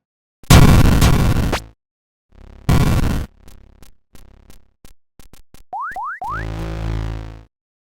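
Grenades in the Rogue Space Marine video game: two loud blasts, then a string of short popping hits, a few springy boing sounds and a final long rumbling burst, with no talk.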